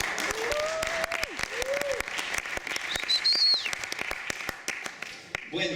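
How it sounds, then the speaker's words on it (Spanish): An audience applauding at a round-table panel on music, a dense, steady patter of many hands clapping throughout, with a few high whistle-like tones mixed in. "Por favor, recibámoslos con un aplauso"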